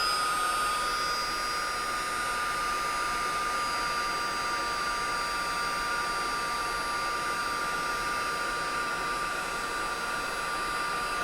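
A heat embossing tool blows hot air in a steady, loud whooshing whine with a high-pitched tone, constant throughout and without talk.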